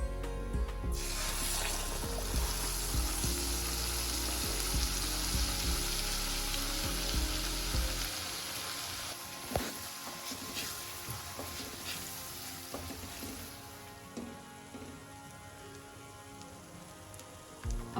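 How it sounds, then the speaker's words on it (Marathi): Spiced masala paste (garam masala, turmeric and ground wet paste) for Pune-style black chicken fries in oil in a kadai, a dense close sizzle that turns lighter and crackly partway through with scattered pops and no talk. "आपला मसाला खूप छान फ्राय झालेला आहे याला सगळीकडनं तेलही सुटलेलं आहे"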